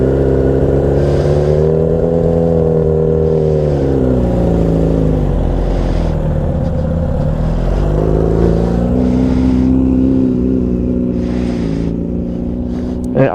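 A motorcycle engine rumbles loudly and steadily close by, its pitch rising and dipping as the rider works the clutch and pulls away.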